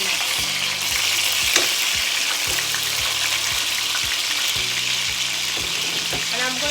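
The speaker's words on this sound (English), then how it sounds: "I'm going to add my garlic into the oil, and pretty much I'm just going to fry that for about 5 minutes" Garlic sizzles steadily in hot oil for a Nigerian pilau rice, a continuous bright crackle with occasional stirring clicks and scrapes throughout.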